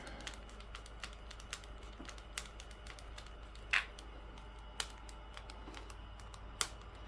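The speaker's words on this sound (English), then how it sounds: "These little ratcheting screwdrivers here are really, really cool." Light, irregular clicks from a small ratcheting screwdriver, a quick run of faint close ticks with a few sharper snaps, no talking.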